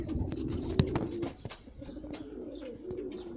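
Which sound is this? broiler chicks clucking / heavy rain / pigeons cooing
pigeons cooing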